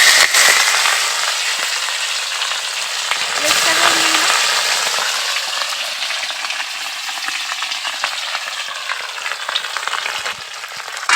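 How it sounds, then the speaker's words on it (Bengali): Fish, head first, frying in well-heated oil in a wok, with loud, dense sizzling and crackling spitting continuously and close up, occasionally shifting as the pieces settle. "তো তেলটাকে খুব ভালো করে গরম করে নিয়েছি, এখন মাছগুলোকে ভেজে নেব।"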